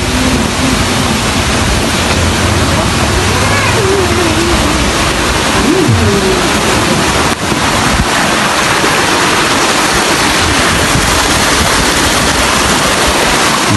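A river rushes steadily beside an earthquake-damaged house in Cianjur, Indonesia, giving a loud, continuous broadband roar of flowing water that stays even for the whole stretch, with faint wind buffeting on the microphone and no clear talk.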